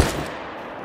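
A single loud rifle shot from a hunting video game, set on the Revontuli Coast map, hitting hard at the start and then trailing off into a long rumbling decay with no talk.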